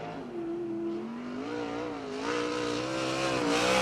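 A USAC 410 sprint car laps Arizona Speedway during time trials, its engine a loud, steady, harmonic drone that swells and rises in pitch as the car draws closer toward the end, with no talk over it.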